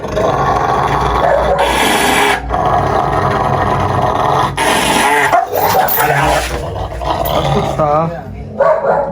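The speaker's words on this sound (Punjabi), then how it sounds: "ਕੁੱਤਾ ਪੈਂਦਾ ਦੇਖ ਕਿਦਾਂ" An aggressive dog growls, snarls and barks while lunging at a man, loud and close, with yelps and a whimper amid frantic shouting and talk throughout.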